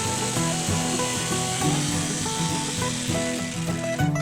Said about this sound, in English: Now using a jigsaw, I cut out the opening.